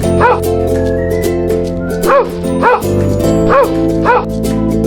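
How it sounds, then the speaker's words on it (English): A dog barks five times in a fairly even rhythm, short and loud, over a sustained musical background. "Dog."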